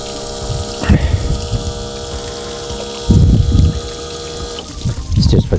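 An outboard motor on a Zodiac YL410 inflatable boat squirts its cooling water in a few splashy bursts over a constant mechanical hum, with voices talking in between.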